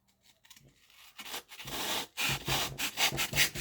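Excess material is cut and scraped off a handmade jaw harp case, giving a close, steady rasping and rubbing that grows louder after a quiet start and continues in short strokes.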